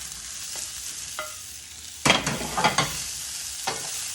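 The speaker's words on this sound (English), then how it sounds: "Stir that together with our prepared chilies and peppercorns." Tofu is stir-fried in a wok with dried chilies and peppercorns for kung pao tofu, producing a steady close sizzle with a few light spatula taps, then a burst of vigorous scraping and tossing strokes.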